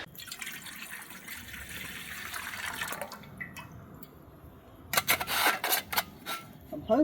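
Water poured from a canteen at a rainy bushcraft camp, soft trickling and dripping close up, turning into louder gurgling splashes toward the end.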